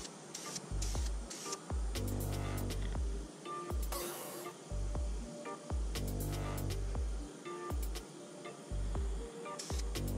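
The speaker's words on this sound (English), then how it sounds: "I'm gonna do one more coat of chrome just to make sure I get a good coverage." Chrome paint sprayed onto a fishing lure: repeated close bursts of hissing spray over a steady low humming drone, stopping and starting several times.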